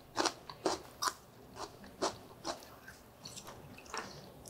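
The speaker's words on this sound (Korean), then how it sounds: "샐러리로다가 한번 이렇게 찍어 먹어 볼게요." Celery dipped in homemade mayonnaise made with olive oil gets bitten into and chewed, giving a string of close, crisp, wet crunches at a steady pace that fade as chewing goes on, with no talking.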